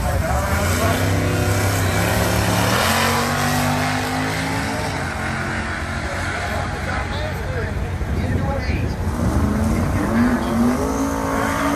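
A nostalgia drag race car with an inline-six engine roars loudly and continuously at a drag strip, its engine note rising and shifting, with voices audible under the din.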